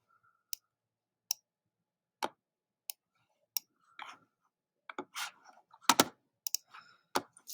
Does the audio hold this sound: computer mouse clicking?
yes